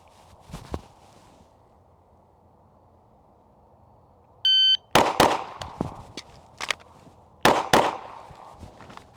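Rapid pistol shots at shooting practice, two tight bursts of sharp cracks a few seconds apart, preceded by a short electronic shot-timer beep and a couple of faint earlier pops.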